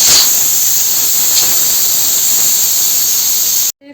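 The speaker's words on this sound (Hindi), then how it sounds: "अब हम हटाएंगे सीटी।" A loud, continuous hiss of steam escaping under pressure from a pressure cooker whistle vent while cooking nihari, steady throughout, then cutting off abruptly near the end.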